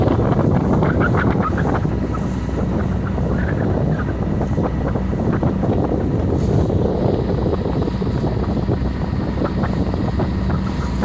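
A sailboat runs downwind on the ocean at about 4.5 knots, its hull sloshing through water under steady, heavy wind buffeting across the microphone, continuous and fairly loud with no talking.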